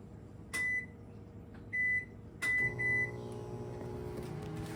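A microwave oven runs on emergency battery power with a steady low hum throughout, and three or four short electronic beeps sound clearly at the start before the hum deepens.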